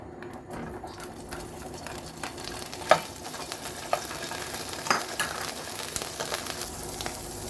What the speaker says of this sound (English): let's add a bit of olive oil to fry our mushroom.